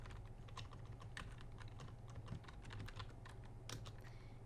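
Typing on a computer keyboard while logging into MySQL, a steady run of close key clicks with no talk.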